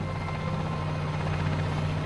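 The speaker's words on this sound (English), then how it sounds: "a helicopter is taking off on a special mission" Helicopter rotor and engine drone steadily during a takeoff near the emptying town of Pripyat during the Chernobyl disaster, a loud continuous whir with a low throbbing hum and no voices.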